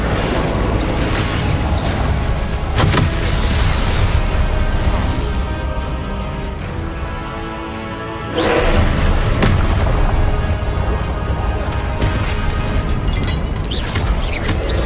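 In Hogwarts Legacy, the Incendio fire spell is cast repeatedly. Each cast gives loud, roaring, booming bursts of flame and impact, with a brief lull partway through and no talking.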